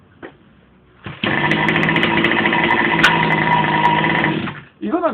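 A GoPed 29cc scooter engine catches and runs at a steady, buzzy high-revving drone for about three seconds before cutting out, with brief voice-like sounds just before and after.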